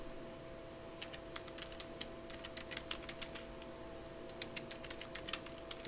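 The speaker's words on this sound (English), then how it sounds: "I will type this one." Typing on a computer keyboard, quiet clicking keystrokes in irregular bursts over a low steady hum, with no talking.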